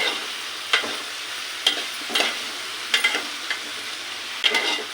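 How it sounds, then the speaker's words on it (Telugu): Chopped ridge gourd stirred in a frying pan, with several separate scraping strokes of the spoon over a soft sizzle, close and fairly loud, no talking. "కట్ చేసిన బీరకాయలు వేసుకొని కలుపుతున్నాము."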